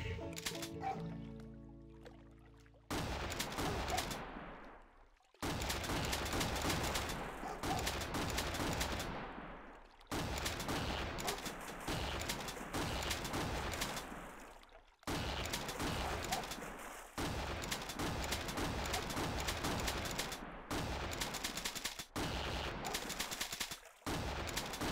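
Repeated bursts of gunfire from the Big Buck Hunter arcade game as bucks are shot, loud and dense shots in several long volleys separated by brief gaps, with occasional game effects between them.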